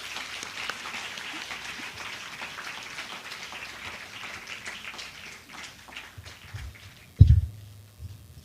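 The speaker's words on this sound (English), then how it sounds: "can we please give them a warm round of applause?" A panel audience claps in a soft, pattering wash that slowly dies away, ending with a single dull thump near the close.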